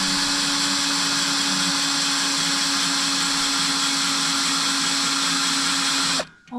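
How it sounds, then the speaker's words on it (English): A power drill pre-drilling holes in a fence, heard as one loud, steady whine that runs for about six seconds and then cuts off abruptly. "Maybe I need to do pre-drilling"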